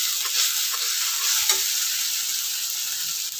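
Chopped tomato with a spoonful of turmeric sizzles steadily in a hot pan, with a few soft scrapes of stirring near the middle; no one speaks.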